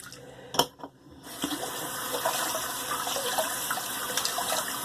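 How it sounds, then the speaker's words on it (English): Tap water runs steadily into a sink while a shaving brush is rinsed, a loud close splashing stream that starts after a brief knock and keeps going without talk. "Let me rush out and rinse out my brush."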